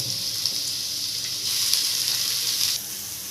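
Chopped onion and capsicum sizzling in two spoons of hot oil in a pan, a loud continuous hiss that swells and crackles steadily, close by.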